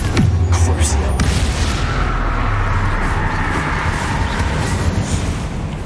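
Spell explosions from Confringo and Crucio cast in the Hogwarts Legacy video game: one sharp blast at the start, then a loud, dense rumbling roar that carries on steadily to the end.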